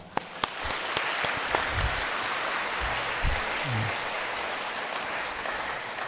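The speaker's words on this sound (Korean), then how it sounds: "우리 마리아 성가대와 북아메리카 이교구 우리 축복하며 격려하며 박수 부탁드립니다" A church congregation applauds a choir after a special hymn, steady distant clapping filling the hall for several seconds, with a few sharp louder claps early on and faint murmuring beneath.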